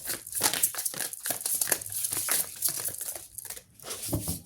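Tarot cards being shuffled by hand for a love reading, close and quiet, a rapid irregular series of papery riffles and crinkly flicks with brief pauses.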